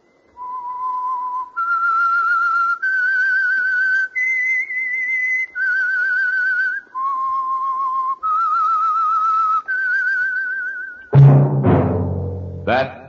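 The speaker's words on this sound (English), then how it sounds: "That whistle is your signal for the Signal Oil Program, The Whistler." A lone whistler carries a slow, clear melody of sustained notes as the signature theme of the radio program The Whistler, followed by a sudden deep orchestral sting at the end.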